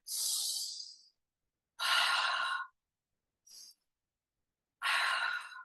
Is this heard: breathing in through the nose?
yes